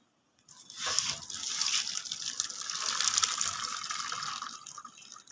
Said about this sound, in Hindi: अब मैं इसको स्ट्रेनर में निकाल रही हूँ, छान रही हूँ। सारा इसका पानी जो गर्म है वो निकाल दूँगी मैं।